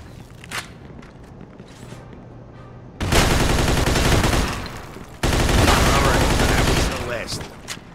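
Heavy gunfire during a Japanese mafia raid in Mafia II: two long, loud bursts of rapid shots, each lasting about two seconds, after a quieter stretch of footsteps and scattered sounds.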